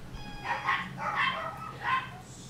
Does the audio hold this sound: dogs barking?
yes